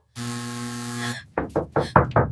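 A sustained tonal chime or buzzer, then six sharp, loud knocks on a door in a quick, slightly uneven sequence, close by with no talking over them.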